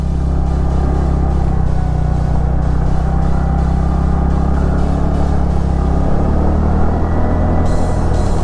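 A 2022 TVS Ntorq 125 BS6 Black Panther Edition scooter ridden in normal mode gives a steady, low engine drone with road rumble that holds an even level throughout, with no voices.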